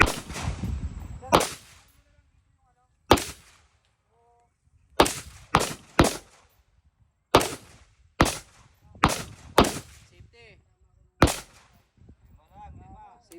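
Single rifle shots fired one at a time during military marksmanship training on a firing range, about ten sharp loud cracks spaced irregularly over several seconds, with faint voices between some shots.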